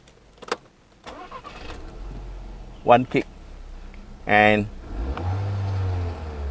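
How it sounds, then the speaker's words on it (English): A 1.4 TSI engine in a Volkswagen Golf Mk6 cranks and catches, then settles into a low, steady idle, with someone speaking briefly over the start. "And let's see how the engine starts."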